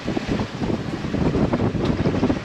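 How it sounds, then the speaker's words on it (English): Strong gusty wind on a sailboat heading into a storm, a loud continuous roar buffeting the microphone in surging gusts, with no voices. "Wow, it's super gusty."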